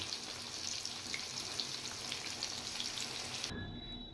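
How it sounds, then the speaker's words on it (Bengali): Papaya pieces frying in a pan for a thin mutton curry: a quiet, even sizzle that continues steadily, then cuts off abruptly near the end, with no voices. "পেঁপে ভাজা হয়ে গেছে"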